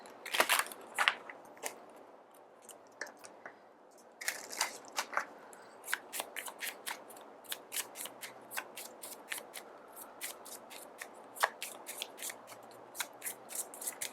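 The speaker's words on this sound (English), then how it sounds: "Feeling called to shuffle another time." Tarot cards shuffled by hand for a pick-a-card reading, a quiet close run of crisp riffling flicks and papery snaps that start sparse, pause, then come in a steady busy patter with no talking.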